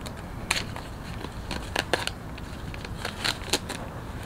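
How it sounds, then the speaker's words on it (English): A plastic bag of copper powder being cut open for boat bottom paint, giving a few scattered crisp snips and crinkles, faint and close, with no talk. "so we'll cut the bag open."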